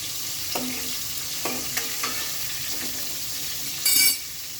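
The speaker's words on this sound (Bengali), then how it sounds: "সাদা তেলটা গরম হলে আমি মাছগুলো আস্তে আস্তে করে ভেজে নেব।" Bhetki fish fry in hot white oil in a wok with a soft, steady sizzle, broken by a few light clinks and scrapes of a utensil and one brief louder hiss near the end.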